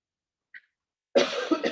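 A single short cough at a community general body meeting, loud and close after a faint tiny sound, with nothing else around it.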